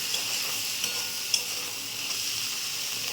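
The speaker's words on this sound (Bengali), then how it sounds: "দিয়ে আনাজগুলো একটু ভেজে নেবো 5 মিনিট" Chopped vegetables frying in oil with turmeric and salt: a close, even, continuous sizzle with a few faint ladle taps, no voices.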